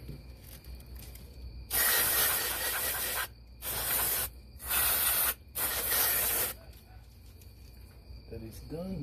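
Electrical contact cleaner sprayed onto the surface of a Mercedes ABS actuator, four loud, hissing aerosol bursts of a few seconds each, close up, with brief gaps between them.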